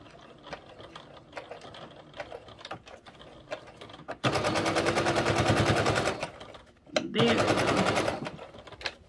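A sewing machine runs a widened seam line on a travel organizer in two loud, steady bursts of rapid stitching, separated by a short pause, with a person speaking briefly near the end.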